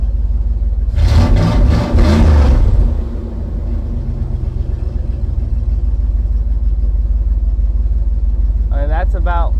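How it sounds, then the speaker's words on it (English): A 1999 Dodge Ram 1500 with a rough idle revs up in a few loud bursts close by, then drops back to a steady rumbling idle, with someone speaking briefly near the end. "But let me rev it a little bit, make sure it catches itself."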